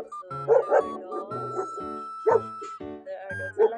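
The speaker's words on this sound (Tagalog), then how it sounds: "there are dogs. Ang laki ng mga aso nila." Large guard dogs bark repeatedly at Sinaia Monastery in Romania, a string of deep, close woofs in irregular bursts with occasional higher yips.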